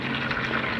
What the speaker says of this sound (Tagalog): And then, add hot water.